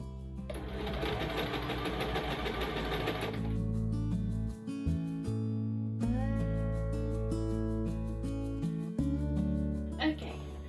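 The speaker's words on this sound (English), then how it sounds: "All I need to do now is to go around the perimeter with the sewing machine." A sewing machine stitches around the perimeter of a curtain's fabric hem for a camper van, running in steady rapid bursts with pauses and speed changes.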